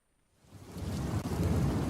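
Rolling thunder and heavy rain rise from silence into a steady, loud downpour with a deep rumble underneath.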